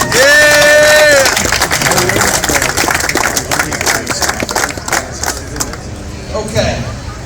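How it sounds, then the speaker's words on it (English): An audience at a national putting tour championship breaks into applause and cheering for the tournament champions, loud at first and then tapering off, with a voice and a whistle-like tone at the start. "Let's hear a nice round of applause"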